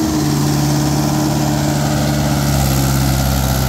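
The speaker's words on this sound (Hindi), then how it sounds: "अभी ट्रैक्टर तीसरे लो में ही ट्रेलर खींच रहा है, जो ट्रैक्टर सही से नहीं खींच पा रहा जी तीसरे लो में भी" Mahindra 575 XP Plus tractor engine labors in third low gear pulling a trailer, a loud, steady low drone with a rough, throbbing texture that holds constant throughout.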